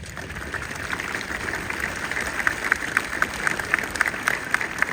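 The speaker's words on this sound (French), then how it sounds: "On peut les applaudir." A crowd at a mayor's public speech in Les Sables d'Olonne applauds volunteers and rescuers, giving dense, sustained clapping at a moderate distance that grows slightly louder toward the end.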